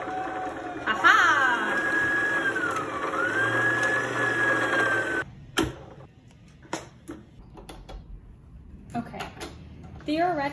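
A sewing machine winds a bobbin with blue thread, a steady whirring hum with a rising then level tone for about five seconds, followed by quieter clicks and handling noises.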